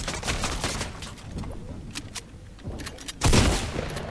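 Gunfire in the video game Fortnite, with several sharp shots spaced irregularly and then a louder burst near the end, set against low background game sounds.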